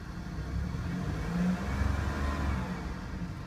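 A 2005 Pontiac Bonneville SLE engine runs steadily and revs up briefly. A dense, continuous mid-range drone is heard close up with no voices.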